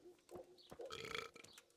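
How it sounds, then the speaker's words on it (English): A character belches in the medieval role-playing game Kingdom Come Deliverance, a short croaky burp of under two seconds that rises and falls, close and fairly loud with no talk over it. "Oh, there's the belch."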